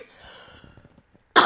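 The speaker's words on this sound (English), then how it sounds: "I'm battling a cough here" A man with a cold coughs once near the end, a sudden, loud, close burst after a quiet stretch of faint breathing and murmur.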